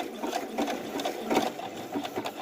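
A domestic sewing machine with an overcast foot stitches a zigzag edge, giving a steady, fairly quiet mechanical whir with rhythmic ticking pulses and no voices over it.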